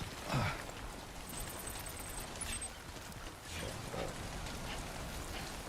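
Steady timefall rain from Death Stranding patters and hisses evenly throughout, with faint chimes and a few soft thuds mixed in, continuous and moderately close.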